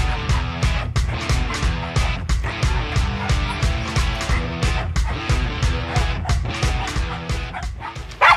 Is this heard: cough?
no